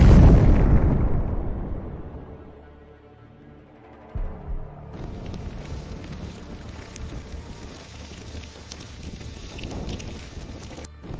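A HIMARS missile strike explodes on a Russian military convoy: a loud blast opens, then fades into rumbling, and a second burst of noisy crackling and roaring debris follows, with wind-like rushing throughout and no talking.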